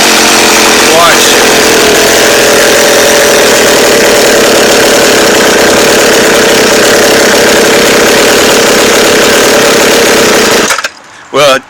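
McCulloch chainsaw engine running at a fast idle, a loud, steady buzzing rattle held close for about ten seconds before it sputters and dies, then a brief final cough.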